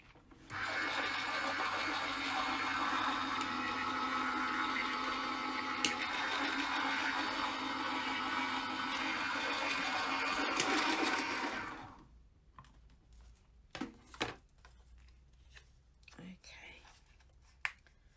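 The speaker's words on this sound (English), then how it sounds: "Now I'm going to run this through the die cutting machine" An electronic die cutting machine whirs and buzzes steadily for about eleven seconds while cutting card, then winds down, followed by a few scattered clicks and handling sounds.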